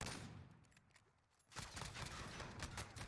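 JAK-12 automatic shotgun fire in Modern Warfare multiplayer comes as rapid blasts, sparse and quieter at first, then a denser, louder volley after a short lull.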